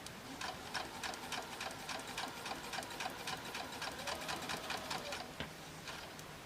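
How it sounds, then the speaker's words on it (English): A sewing machine runs steadily along drawn lines on a fabric strip for a quilted star ornament, giving a faint but continuous whir with a quick, regular ticking pulse of the needle throughout. "we're just going to sew on these lines all the way down until we have them all sewn onto the strip"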